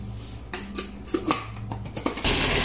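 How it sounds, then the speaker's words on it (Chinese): Several light metallic clinks and taps of a pan and utensils come first. Then a loud, sudden sizzle bursts in as marinated steak starts frying in a pan in a home kitchen. "我现在已经开始煎这个牛排了。"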